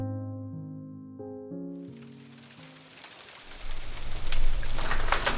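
Rain falls steadily outside a home, its hiss swelling in after a few soft sustained musical notes fade away, then holding loud and even to the end, with no voices.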